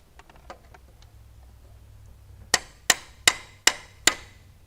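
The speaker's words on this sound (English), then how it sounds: "Just needed a few more whacks." Hammer whacks on a Subaru Crosstrek starter: five sharp, loud metallic strikes at a steady rhythm, preceded by faint clatter and light tapping.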